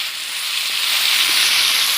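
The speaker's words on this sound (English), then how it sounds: "Doesn't take long to cook a steak on here. You can see it sizzling." A steak sizzles on a hot grill at an outdoor meet-up, a steady loud hiss of fat and juices spitting without pause, close and constant with no voices over it.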